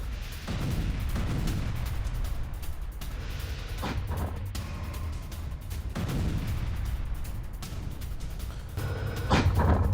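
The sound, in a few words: Russian T-80 tank shelling Ukrainian positions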